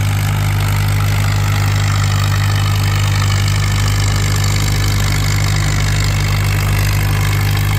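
An antique tractor pull with an M tractor engine, running loud, close and steady: a constant heavy drone with strong low rumble and broadband roar, no speech over it.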